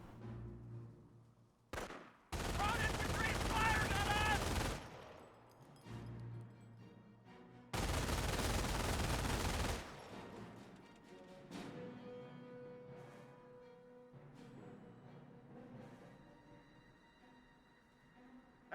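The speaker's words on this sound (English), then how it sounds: "A Rifle squad getting some fire on the Volksgrenadiers" Rifle squad gunfire aimed at Volksgrenadiers in the Company of Heroes 1 video game, with two long, loud bursts of battle noise separated by quieter stretches of game sound.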